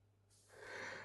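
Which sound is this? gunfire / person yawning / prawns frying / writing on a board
person yawning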